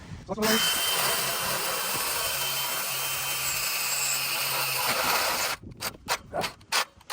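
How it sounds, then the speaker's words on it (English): A power drill bores holes through clamped cross brace brackets for a rolling barge bridge, a loud, close, continuous whine lasting several seconds before stopping, followed by short clattering handling noises. "I can get away with drilling all 4 holes without, if I got good vice grips and they're clamped in place well, I can do all 4 holes"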